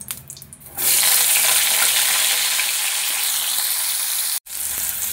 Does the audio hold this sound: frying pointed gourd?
yes